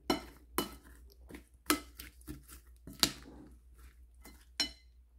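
Salad ingredients of cucumber, carrots or mango are tossed in a bowl. Irregular utensil scrapes and clinks against the dish land every half second or so, fairly quiet with short gaps between.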